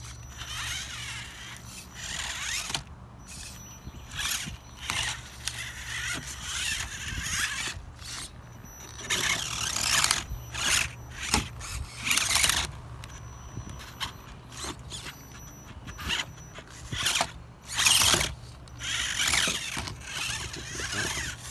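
An RC rock crawler with four-wheel steering crawls over small rocks set up on a ramp, giving irregular mechanical whirring, scraping and clicking bursts from the drivetrain and tires, close by and without speech.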